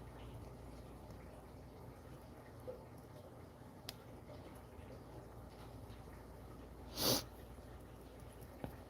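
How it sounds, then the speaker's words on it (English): A single short, sharp sniffle cuts in close to the microphone during a quiet craft livestream, standing out once against faint background noise with no talking. "I don't mean to sniffle in your ear"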